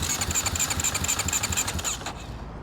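The engine of a 2020 KTM 350 EXC-F dirt bike is held at its rev limiter, a loud, fast, pulsing buzz at steady pitch. It cuts off after about two seconds, leaving a short fading tail.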